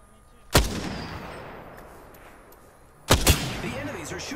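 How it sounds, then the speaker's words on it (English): Two loud gunshots from a sniper shootout in the video game Apex Legends, one early and one near the end, each a sharp crack followed by a long ringing decay, with no talk over them. "The enemies are shooting at me."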